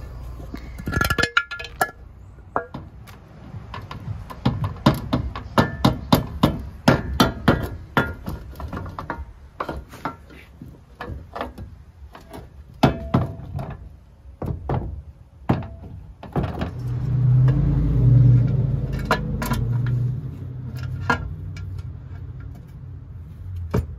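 Tightening the bolts on a differential cover of a Second Gen Cummins 24 valve truck, sharp metallic clicks and knocks coming in quick rapid bursts, close by, then a low rumbling stretch toward the end.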